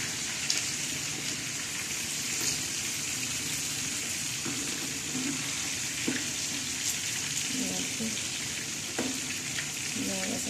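Fish fries in oil in a home kitchen with a continuous crackling sizzle close by, marked by occasional spatter pops and light utensil clicks, and a voice faintly in the background.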